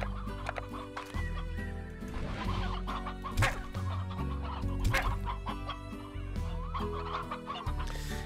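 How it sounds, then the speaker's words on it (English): Chickens clucking in the video game Slime Rancher, a busy, close chorus of repeated clucks and squawks with steady game music underneath. "There's chickens just popping up everywhere."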